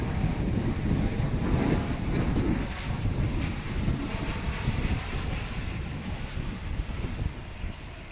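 A Finnair airliner roars at Dallas/Fort Worth Airport, a sustained, broad engine rumble heavily buffeted by wind noise on the microphone, fairly loud and continuous with no talk.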